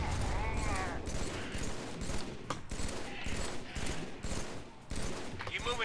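Gunfire in the video game Halo 3, dense bursts of automatic fire and sharp shots running steadily throughout, loud and close, mixed with game effects.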